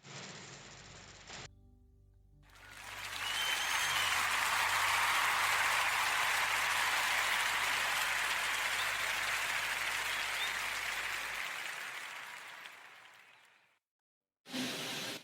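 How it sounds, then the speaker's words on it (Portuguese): Loud, sustained audience applause for a radio podcast show swells in after a brief pause and holds for about eleven seconds before fading out, with no talk over it. "quero pedir a toda a gente uma enorme salva de palmas, por favor"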